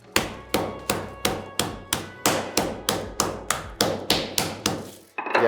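Puff pastry dough being struck to flatten it evenly, a steady series of about a dozen firm, dull thumps at a regular rhythm, close and alone.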